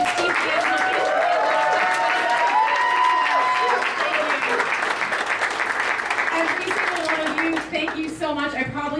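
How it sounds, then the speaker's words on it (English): A crowd applauds at a cannabis fire relief fundraiser, with steady sustained clapping filling the room while a voice talks over it and the clapping thins near the end. "Let's give another round of applause for Harborside, the team."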